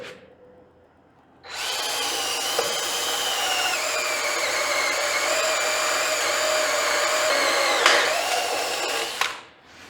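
A cordless power drill bores into metal parts of a homemade trailer, spinning up after a quiet start into a loud, sustained whine that wavers slightly under load, then stops abruptly near the end; no one speaks.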